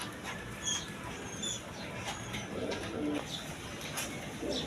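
Pigeons kept for sale, a quality fancy pair among red ghorra and Lahori breeds, coo in soft repeated low calls under steady background noise, with a few brighter chirps from other birds nearby.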